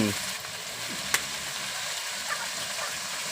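Mama instant noodles stir-frying in a pan at an outdoor garden kitchen, a steady close sizzle with a brief clink of a utensil, no one speaking.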